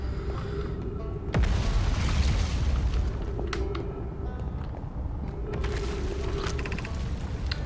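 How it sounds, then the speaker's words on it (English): A gravity cannon in the video game Outer Wilds gives off a steady mechanical rumble with creaking and clanking, broken by a sharp boom and a few metallic ratcheting clicks. "Gravity cannon."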